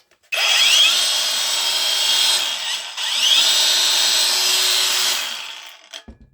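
A Devolt DCG 405 angle grinder, a cheap AliExpress copy, runs free in two loud, whining bursts, each spinning up sharply, holding a high steady tone for a couple of seconds, then winding down.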